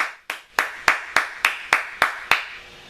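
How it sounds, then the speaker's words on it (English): One person claps hands nine times in a slow, even rhythm. Each clap is a sharp, close, separate crack that decays before the next one, and the sequence then stops. "I applaud them."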